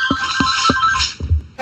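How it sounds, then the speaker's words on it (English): A ringing phone-like tone from a roller coaster ride in a snail game, sounding as a series of evenly spaced electronic rings, loud and clear, ending in a sharper burst. "it makes a kind of phone ringing noise as they do."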